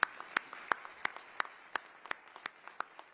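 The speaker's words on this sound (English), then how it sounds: "Let's give them one more round of applause." Sparse audience applause at a mayor's State of the City address, a few individual claps landing in a loose, uneven rhythm, fairly quiet and thin rather than a full roar.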